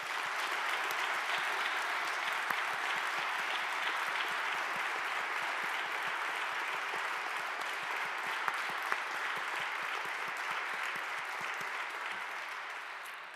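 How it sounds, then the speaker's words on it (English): An audience at an honors convocation breaks into sustained applause, a dense, even wash of many hands clapping that carries on steadily and fades slightly at the end, with no one talking. "Let's give Dr. Marinari a round of applause."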